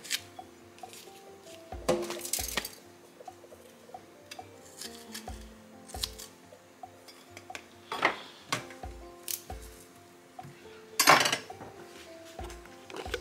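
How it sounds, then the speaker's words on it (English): Seeds and membranes are pulled from the insides of fresh peppers before roasting in a kitchen, with soft wet squishing and tearing, intermittent knocks, and clinks of utensils against a board or bowl, all close by. "you want to make sure you remove all the unwanted parts, like the inside of the peppers"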